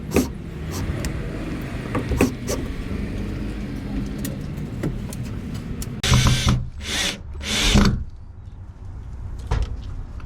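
A power drill drives screws into the frame of a self-built cabin room, with several short whirring bursts close by near the end, over steady background noise and scattered knocks.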